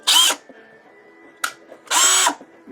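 Hychika DD18F cordless drill driver, a two-speed model, whirring in two short bursts, the second longer, with a brief blip between them, close and loud against a quiet room.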